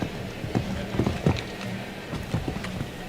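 Show-jumping horse hooves on the course at a Nations Cup CSIO4* event: irregular clip-clop thuds and dull hoofbeats landing in uneven bursts over steady arena background noise, with no voices in between.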